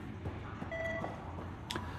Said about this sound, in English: See that beeping and that vibrating there?